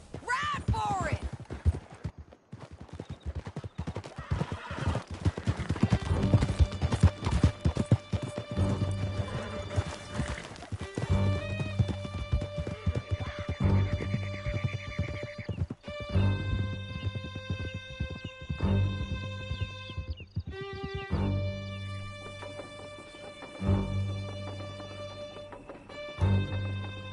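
Horses gallop in a video game escape scene, with a steady clip-clop of hooves running under music, occasional neighs and crashing effects.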